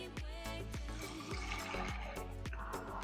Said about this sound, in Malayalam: ഇനി ഇതിലേക്ക് നമുക്ക് 1 ലിറ്റർ വെള്ളം കൂടി ഒഴിച്ചു കൊടുക്കാം.